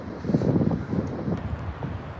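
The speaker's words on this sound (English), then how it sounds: "It's a little bit windy out here," Steady wind buffeting a microphone outdoors in Vienna, Austria, a low rumbling gusty roar that stays loud throughout with no voices.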